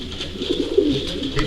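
A barless racing pigeon in a loft gives soft, low cooing close by, a brief murmuring call with faint background noise.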